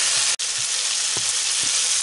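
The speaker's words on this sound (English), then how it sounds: "now that we've seared all sides" Country style jerk ribs sear in a pot, a loud, steady sizzle heard close up, broken by a brief cut and a couple of soft knocks.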